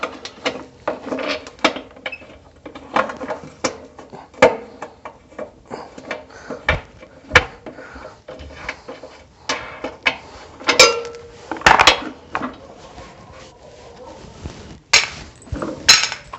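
Small metal wing nuts and bolts from a parted-out small engine clink and clatter as they are handled, a series of sharp close knocks and jingles in irregular bursts with quiet gaps between.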